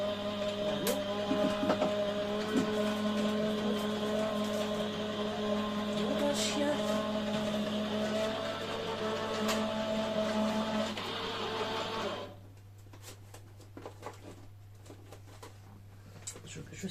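A Gemini die-cutting machine runs with a steady mechanical hum and whir for about twelve seconds before stopping, leaving a quieter room where a person moves about and talks.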